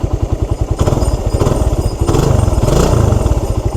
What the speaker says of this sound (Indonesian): Kita tes sedikit geber ya.